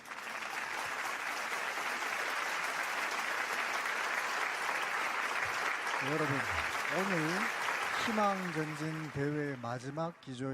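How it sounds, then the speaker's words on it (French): Sustained applause from a large audience at a political rally honouring a head of state, dense and steady throughout, with a voice starting to speak over it near the end. "Remercions avec un tonnerre d'applaudissements"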